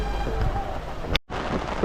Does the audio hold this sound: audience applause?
no